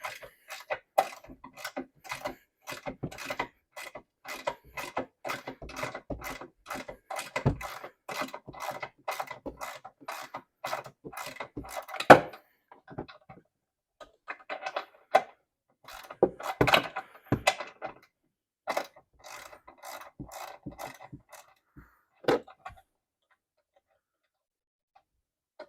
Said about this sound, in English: we're just going to get in here with a ratchet and loosen all 4 of these bolts real quick